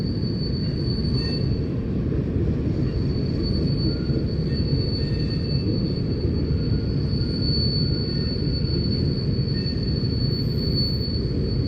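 A freight train of intermodal containers rolls steadily past at Palmer Lake, Colorado, with continuous loud wheel rumble and a thin, persistent high squeal from the rails.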